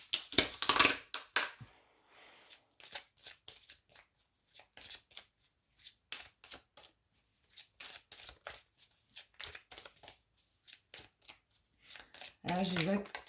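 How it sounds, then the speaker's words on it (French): Tarot cards being shuffled by hand in repeated quick riffling bursts, close and crisp, with brief pauses between passes and a voice speaking over them. "Remélanger, je remélange."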